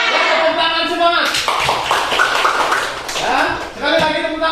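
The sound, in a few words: audience clapping at the teacher's request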